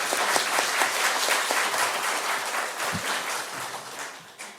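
An audience at a Franciscan academic seminar in Korea breaks into steady applause, a dense even clatter of many hands that holds for several seconds before tapering off.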